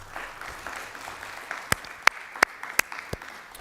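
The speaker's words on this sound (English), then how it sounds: "Let's please have a round of applause for our panellists this afternoon." Light scattered applause from a youth assembly audience honouring panellists: a soft wash of clapping with a few louder, distinct nearby claps standing out, moderate in level and fairly brief.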